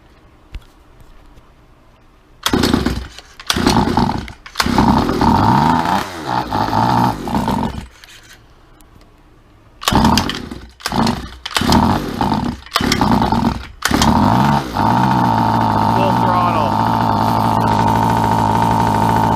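Small engine on a trigger-style machine being started, sputtering in short bursts with pauses, then revving hard at full throttle in a loud, steady roar close by.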